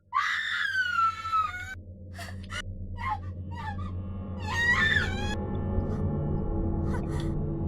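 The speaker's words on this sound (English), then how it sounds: "Why was Emmy screaming?" Screams ring out in the horror video game Corpse Party: Book of Shadows: loud, shrill cries and sharp gasps come in bursts over a low, droning ambient backdrop.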